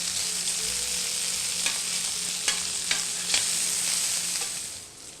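Italian sausages fry in a hot pan while they are turned over, giving a steady, close sizzle with a few sharp clicks and knocks as the links are flipped. No voices are heard.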